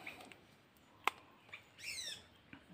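Several birds call from the trees in a rural jungle area, a sharp squawk followed by scattered chirps and a faint rising whistle over quiet background hiss.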